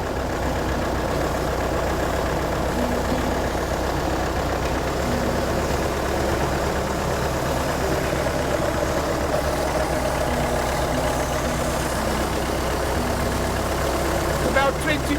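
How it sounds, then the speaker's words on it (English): A tractor engine runs loud and steady nearby during sprayer calibration, its drone holding near one pitch rather than clearly rising, with indistinct voices partly buried beneath. "we're going to get the tractor to pick up his revs, pick it up"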